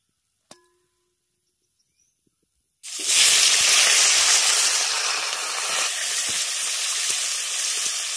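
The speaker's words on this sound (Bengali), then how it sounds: "এবার তেলটা দেওয়ার পর আলু আর পটলটাকে ভালো করে একটু ভেজে নেব।" Potatoes and pointed gourd drop into hot oil in a pan. After near silence and a single click, a loud sizzle bursts in and keeps hissing steadily.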